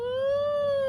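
A single human voice wails in imitation of a siren, holding a loud, steady tone that rises and falls only slightly for about a second, with no other sounds around it.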